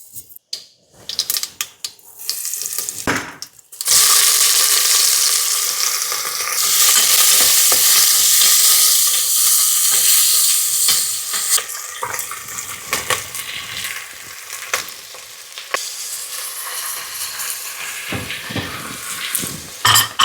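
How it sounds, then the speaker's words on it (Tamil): Vegetables, including potatoes, are tempered in hot oil for sambar in a home kitchen. After a few seconds of quiet clinks, a loud, steady sizzle bursts up and continues, broken by scraping and clattering from stirring. "சாம்பாருக்கு வந்து பார்த்திங்கன்னா கொஞ்சம் தாளித்து கொட்டிக்கலாங்க."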